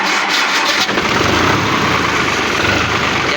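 A tractor engine self-starts, a brief starter crank catching into a loud, steady, rumbling idle close by, with no talk.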